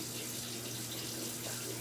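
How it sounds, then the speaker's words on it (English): Kitchen tap running steadily over peeled potatoes being rinsed, a soft continuous stream of water splashing, faint and alone. "Now we're gonna rinse them off because they're all potato peely."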